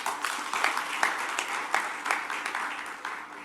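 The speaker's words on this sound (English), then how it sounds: "Let's give a big applause to him." Conference audience applause, a steady patter of many hands clapping at moderate volume throughout.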